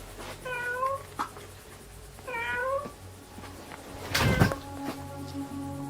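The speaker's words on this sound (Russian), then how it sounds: "здесь может быть кот какой-то живет" A cat meows in a dim room during a paranormal investigation, two clear drawn-out calls spaced apart, followed by a short thump like a door or object knocking nearby, with no talk over it.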